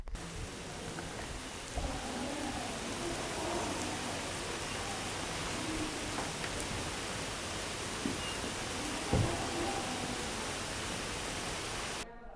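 Steady heavy rain pours down during a storm with hail at a summer camp, a dense, even hiss filling the whole stretch with no voices and only a couple of faint knocks.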